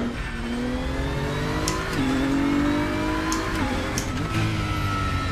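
Race car engine at Zolder circuit in the RaceRoom sim racing game, a steady loud drone with rising and falling revs through gear shifts, alone with no talk.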